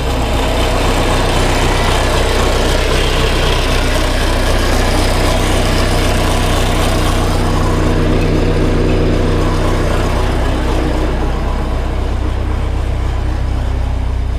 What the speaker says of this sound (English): This old diesel motor warm up